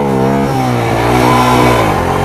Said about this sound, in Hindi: चलो भाई अभी है ये पेट्रोल में और अब इसका पहले गियर का टेस्ट करते हैं।